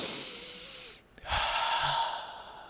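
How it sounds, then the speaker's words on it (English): Deep breathing in a quiet room: a long, steady, airy inhale, a short silent pause, then a slow breath out that trails off. "I want you to do some deep breathing before you go to bed"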